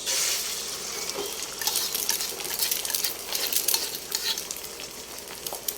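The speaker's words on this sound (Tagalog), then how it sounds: "At ikutin ang mantika. Umuusok na siya guys." Smoking-hot oil in a pan for fried rice gives a bright, continuous close sizzle with crackling bursts, light metallic clinks and scraping from stirring, with no voices.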